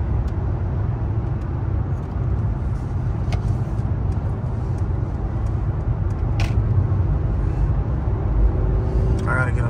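A 2024 Lamborghini Huracan and 2024 Mercedes-Benz AMG S580 on the road, heard from a chasing car: a steady low road and engine roar with occasional clicks, under talk from people in the car.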